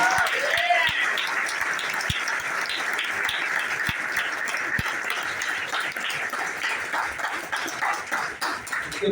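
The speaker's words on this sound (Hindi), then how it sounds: "ताली होनी चाहिए।" A large audience at a stage sharing event claps steadily and densely, a continuous wash of applause with occasional sharper taps and faint voices underneath.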